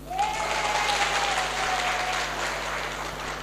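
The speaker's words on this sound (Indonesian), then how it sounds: "Tepuk tangan untuk Anda semua." Sustained applause from a seminar audience on raising children, a broad even wash of clapping throughout, with a faint tone lingering faintly beneath it.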